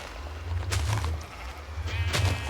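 A Minecraft sheep bleating, two wavering nasal bleats about a second apart, close and clear over a low background hum.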